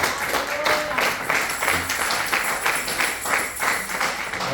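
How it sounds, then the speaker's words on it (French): A church congregation bursts into sustained applause and cheering in praise of the Lord, dense clapping from many hands filling the room steadily throughout, with voices mixed into the crowd noise. "Est-ce qu'on peut acclamer le Seigneur?"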